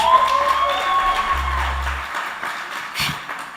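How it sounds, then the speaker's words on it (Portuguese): An audience applauds volunteers with a steady, moderately loud spread of clapping that carries through the whole stretch, joined by a low hum and a tonal ringing, with a brief louder burst near the end. "Você pode aplaudir os nossos voluntários mais uma vez."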